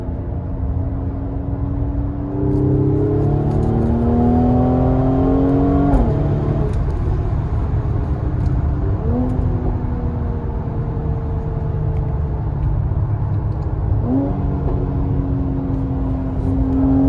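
A Mercedes-AMG GLC 43 with an IG35 Eurocharged tune revs hard through repeated accelerations, its engine note climbing in pitch through the gears with brief shift breaks, loud and close with steady rumble underneath.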